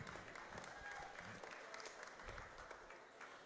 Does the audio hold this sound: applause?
yes